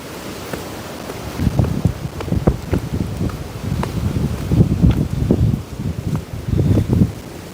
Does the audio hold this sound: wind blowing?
yes